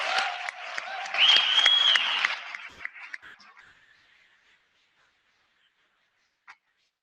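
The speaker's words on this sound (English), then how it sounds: "let's give them a wonderful round of applause" Graduation audience applauding the faculty, clapping mixed with a brief whistle or cheer, fading out quickly into near silence with a single stray sound afterward.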